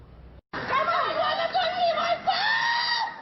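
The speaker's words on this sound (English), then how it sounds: "The hysterical screams of an inconsolable mother, just getting word that her son was the victim in a broad daylight New Haven shooting." A grieving mother screams hysterically after learning her son was shot in broad daylight in New Haven. After a brief cut the screams start loud, then rise and fall in wavering wails that run on without pause.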